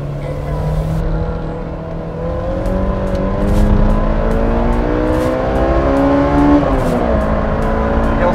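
A Honda S2000 engine revs hard toward 9000 RPM and climbs in pitch, a loud, close, screaming drone that rises, dips briefly, then pushes higher again while climbing a street.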